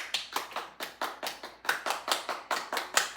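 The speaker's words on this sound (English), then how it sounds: "we want to clap" A single person claps hands in a steady, even rhythm of about a dozen sharp, close claps.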